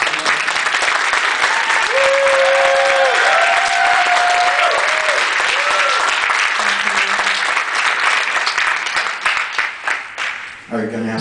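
A large convention audience at a science-fiction fan gathering applauds steadily and loudly for about ten seconds, with a few cheers mixed in, before the clapping tapers off and a voice begins speaking.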